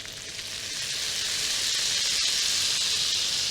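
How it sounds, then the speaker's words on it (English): Fish frying in a pan with capers and a squeeze of lemon, giving a steady, close, loud sizzle with a bright hissing spit that swells slightly and holds to the end, no voices. "and when it's still sizzling you want to pour it all over your fish"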